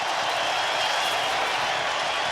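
A rugby stadium crowd roars and cheers after a Hurricanes try against the Brumbies in Wellington in 1997, a dense, sustained wash of shouting and clapping filling the whole clip.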